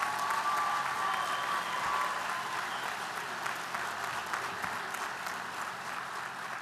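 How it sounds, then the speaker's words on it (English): A crowd at a community college commencement ceremony applauds award winners, producing a sustained, dense, moderately distant wash of clapping across the whole stretch, gently easing off toward the end. "Please join me in offering a round of applause to the award winners"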